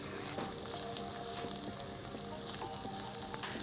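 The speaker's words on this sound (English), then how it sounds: "now I'm going to add chopped ginger garlic and saute it for a few minutes" Chopped ginger and garlic sauté with translucent onions in a pan for an all-purpose curry base gravy, giving a steady, even sizzle with faint scraping stirs, close and alone without talk.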